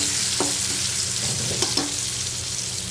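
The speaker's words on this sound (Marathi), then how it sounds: "मध्ये जे तेल असतं ना त्याच्यामध्ये हा शिल्लक राहिलेला मसाला आपल्याला परतून घ्यायचा" Leftover masala frying in oil in a pan beside stuffed bitter gourds made with a dry coconut paste, a steady close sizzle broken by a few clinking stirs of a spoon.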